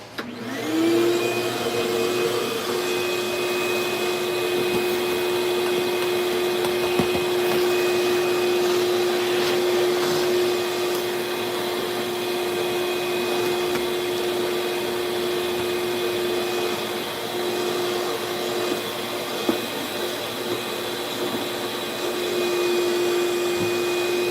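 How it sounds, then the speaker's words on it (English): A vacuum cleaner runs continuously at close range for over twenty seconds, a loud steady whine and roar starting up at the beginning, with small bumps as it moves. "I gotta vacuum a little bit"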